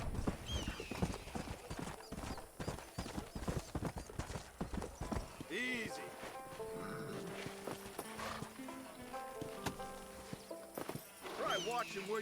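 Horse hooves clip-clop in a rapid stream while a horse whinnies in the Red Dead Redemption game world, joined by speech and music, with the hoofbeats loudest through the opening half.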